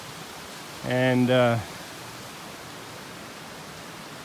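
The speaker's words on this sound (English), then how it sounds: "it's been great having the sound of the water" Mountain stream water flowing steadily through rhododendron forest on a hiking trail near Roan Mountain, Tennessee, a continuous soft hiss throughout, briefly under a short spoken word.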